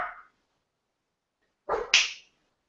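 A puppy gives two short, sharp yelps or barks close by, a brief one at the start and another pair after a pause of silence, with no talking over them.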